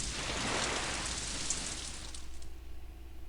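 Heavy tropical rain pours down on Viti Levu, Fiji, a loud continuous hiss that eases slightly toward the end, with a low rumble underneath.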